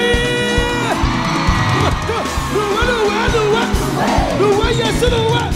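A live gospel concert crowd at a campus venue whoops, yells and cheers over loud band music, the voices blending into a continuous roar with scattered shouts throughout.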